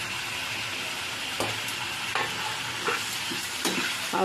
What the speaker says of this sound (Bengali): মিক্স করব ভালো করে, নাড়াচাড়া করব